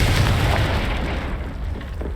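Confringo fire spell exploding in Hogwarts Legacy, a loud deep boom that rolls off and fades over about two seconds.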